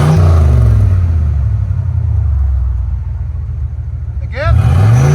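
A 1987 Oldsmobile Cutlass V8 fitted with twin Dynomax Race Bullet mufflers idles with a loud, deep steady rumble close by, then revs up sharply near the end.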